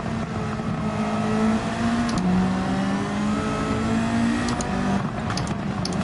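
Retro race car engines in a Gran Turismo 7 race, a Beetle and an RX-8 held up in traffic, droning and revving steadily with shifting pitch, loud and continuous without talk.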